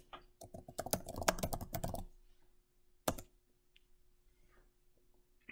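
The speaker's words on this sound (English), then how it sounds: "I'm going to type in the subject," Rapid keystrokes on a computer keyboard entering a search term, a dense burst of close, crisp clicks for about two seconds, then a single louder key press after a pause and a few faint taps.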